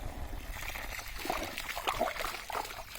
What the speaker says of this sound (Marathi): 2 इंच असं पाणी चालू आहे याच्यामधून.